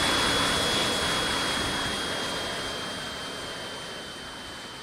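A model airplane engine in an RC flight simulator hums as a steady high whine that slowly fades as the aircraft flies away, with no talking.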